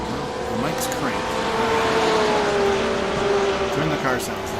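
GT3 race car engines in a racing video game at Barber Motorsports Park, including a Ferrari, whine and rev steadily in the background, a continuous mechanical drone with some faint talking mixed in.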